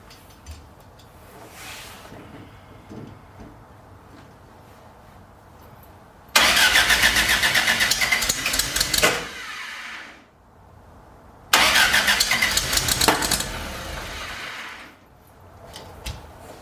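A 1969 Lotus Europa engine left running with no throttle, with two loud stretches of steady, rough running set against quieter idle and pauses, close by.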